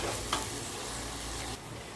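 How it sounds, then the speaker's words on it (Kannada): Tomato paste frying in a pan for egg biryani, giving a steady, close sizzle with a light stir or tap early on and a slight drop in the hiss toward the end. "ಅದನ್ನು ಸಹ ಇದರಲ್ಲಿ ಹಾಕ್ಕೊಂಡು ಚೆನ್ನಾಗಿ ಫ್ರೈ ಮಾಡ್ಕೊಳ್ಳೋಣ."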